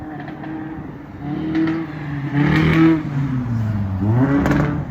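A car with a damaged engine passes nearby, its rough motor droning and rising in pitch as it revs, loud and without speech.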